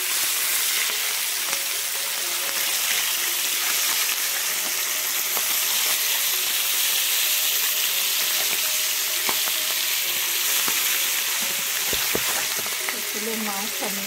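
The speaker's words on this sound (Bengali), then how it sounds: "মাছের দুপাশটা সুন্দর করে ভাজা হয়ে গেছে" Hilsa fish frying in hot oil in a home kitchen, a steady close sizzle with faint crackles and a few clinks and scrapes from turning the pieces near the end.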